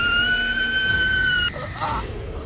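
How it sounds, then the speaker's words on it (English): A girl screams in the horror video game Tiny Bunny, a loud, sustained, piercing high cry that holds for about a second and a half before cutting off abruptly into quieter muffled sound. "The last sounds I heard were Olya's deafening scream"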